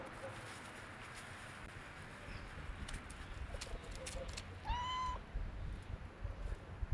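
Cats meowing outdoors while being tossed small bits of food, one clear rising meow near the middle over low background rumble and scattered calls, fairly close and moderately loud.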